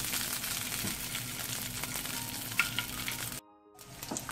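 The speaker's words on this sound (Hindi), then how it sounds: "अंडे अच्छे से फ्राई हो चुके हैं" Eggs fry in a pan for a restaurant-style anday cholay, giving a steady close sizzle throughout that cuts out briefly near the end before resuming.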